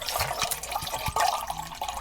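Water poured into a metal canteen cup, part of an Italian Alpine army ration setup, splashing and trickling in short bursts for about two seconds, close and moderately loud.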